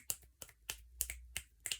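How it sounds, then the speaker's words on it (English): Soft, quiet claps in a slow, even series of about six, light and polite, with nothing else around them. "This is a golf clap."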